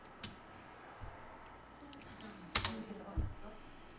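Computer keyboard keys struck in a few separate presses, with a Ctrl+Enter combination typed in a Hangul word processor document; soft, close clicks with gaps between them, and a couple of sharper taps near the end.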